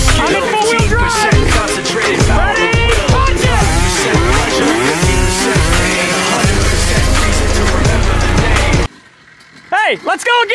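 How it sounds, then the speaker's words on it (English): A twin-turbo Ford EcoBoost truck in four-wheel drive drag-racing a mint 2004 Honda CR125 dirt bike, loud engines roaring up close under excited shouting for about nine seconds, then cutting to quieter wind and voices. "2004 Mint CR125 versus the twin turbo Ford EcoBoost"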